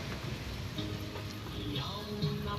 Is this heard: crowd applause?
no